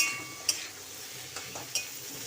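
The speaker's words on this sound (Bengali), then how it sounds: "এখন সব কিছু একসঙ্গে ভালোভাবে মিশিয়ে নেব" Dal with ginger and green chillies being mixed in a pan, a soft, low sizzle with a few sharp scraping clicks of a spoon against the metal, quiet and close.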